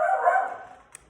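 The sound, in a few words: dog barking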